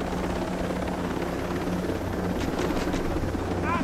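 A helicopter in a first-person military shooter drones loudly and steadily, its rotor and engine noise filling the whole stretch with no talk over it.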